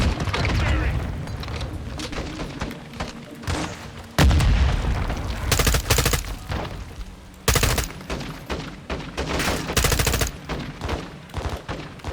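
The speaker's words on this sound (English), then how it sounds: "The 40mm is actually a fairly small explosion." Bursts of gunfire and booms from Modern Warfare 2 combat, including a small 40mm grenade explosion, come in repeated loud, sharp blasts and rattling volleys that fill the whole stretch.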